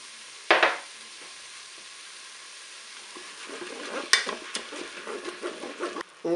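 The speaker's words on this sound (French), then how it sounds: "Je vais ajouter les morceaux d'oignon." Onion pieces dropped into a hot Cookeo pot: after a couple of clattering knocks, a soft sizzle builds and crackles steadily, close by and moderately loud.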